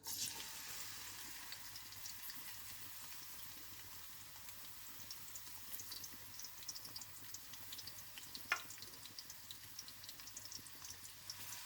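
Cumin seeds and two medium chopped onions hit hot oil in a pan, giving a steady, close sizzle that runs throughout, with one sharp pop partway through and no talking.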